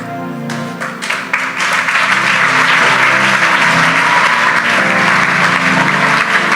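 Church congregation applauding and cheering at a prophetic gathering, a dense, loud, sustained wash of clapping with voices cheering that builds in the first seconds and holds steady throughout.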